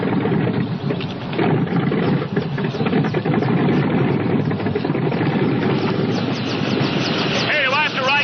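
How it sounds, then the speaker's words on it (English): Helicopter engine warming up, a loud, close, continuous rumbling mechanical drone that holds steady across the whole stretch, with faint chirping sounds near the end. "Warm up the copter."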